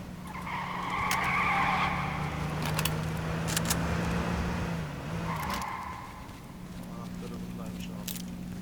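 A car driving and skidding in the survival game H1Z1: a steady engine drone with tire screeches rising and falling over several seconds, under quiet voices.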